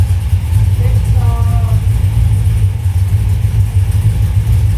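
A completely cold engine idles without a choke with a steady low, throbbing rumble, close and loud, in a room at about 63 degrees, while a brief faint tone rises in the background.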